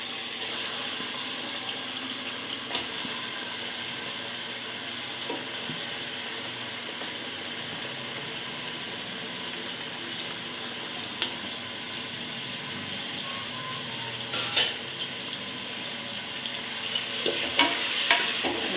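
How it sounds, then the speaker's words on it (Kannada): Mutton going into a little hot oil for a village-style mutton sambar, a steady moderate sizzle and fry with occasional clinks and stirring scrapes, no talking over it. "ಸ್ವಲ್ಪನೇ ಎಣ್ಣೆ ಹಾಕಿ ನೋಡಿ ಮಟನ್ ಹಾಕ್ತಾಯಿದ್ದೀನಿ"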